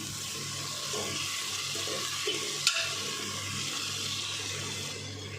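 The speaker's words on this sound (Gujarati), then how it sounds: "હવે આપણે બધું બરાબર મિક્સ કરી લઈશું" Spices and vegetables for veg pulao, seasoned with salt and garam masala, stirred in a pressure cooker: a steady close scraping and rustling with a soft hiss underneath and one sharp clink partway through, no voices.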